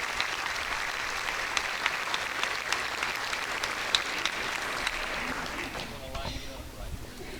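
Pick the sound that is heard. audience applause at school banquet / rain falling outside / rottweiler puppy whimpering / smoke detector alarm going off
audience applause at school banquet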